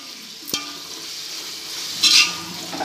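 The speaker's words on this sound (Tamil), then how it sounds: "மட்டன் போட்டு நல்லா இதில் வந்து கலந்துக்கலாம்." Mutton stirred and fried in a pot for biryani: a steady sizzle with scraping stirs, one sharp clink near the start and a louder sizzling surge toward the end, close and without talk.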